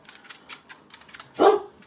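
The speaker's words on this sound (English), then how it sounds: "everybody needs to bark" One loud dog bark rings out near the end, preceded by a few quieter scattered yips and small sounds.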